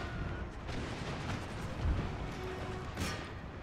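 Battlefield din from the strategy game Imperial Destroyer, with artillery thuds and scattered gunfire under a continuous rumbling wash, a deep boom near two seconds and a sharper crack near three, moderately loud.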